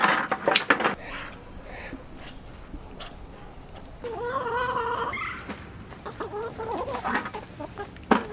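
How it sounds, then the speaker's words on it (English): A backyard flock of chickens fed on food scraps clucks and squawks nearby, with a burst of loud, busy calling in the middle and scattered rustling, with no talking over it. "this flock right here is one that is kind of like our food scraps chicken flock"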